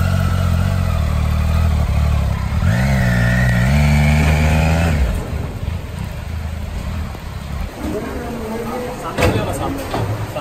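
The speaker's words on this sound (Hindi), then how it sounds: "मैंने अपनी बाइक कंटेनर के अंदर घुसाई" Motorcycle ridden into a big container truck, its engine idling and rising in pitch through a couple of revs before cutting off, followed by clattering and a voice in a large echoing space.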